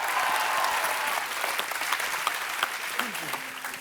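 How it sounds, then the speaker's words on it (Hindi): A studio audience on a comedy talk show bursts into loud, sustained applause that slowly tapers off, with a few voices mixed in under the clapping. "जोरदार तालियां एक बार।"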